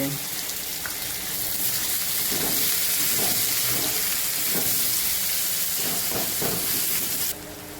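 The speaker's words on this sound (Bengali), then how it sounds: "এবার পেঁয়াজটাকে দিয়ে একটু নাড়িয়ে নিতে হবে একটু চিনি দিয়ে নুন দিয়ে দিতে হবে" Onions fry in a pan with salt and sugar, giving a loud, steady sizzle and hiss close by. Occasional soft scrapes and bumps from stirring break through, and the sizzle drops a little near the end.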